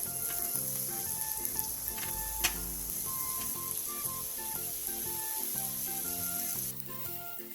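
Pine mushrooms frying on low heat in a pan of butter and olive oil give a steady, close hiss of sizzling that runs unbroken throughout, with gentle background music underneath.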